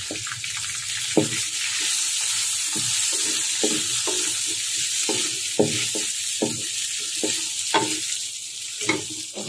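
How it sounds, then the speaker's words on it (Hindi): Cooked chicken stirred into browned onion masala in a pan for chicken karela, a rhythmic series of spoon scrapes and knocks over a continuous close sizzle, no speech. "अब मैं ये चिकन इसमें ऐड करूंगी।"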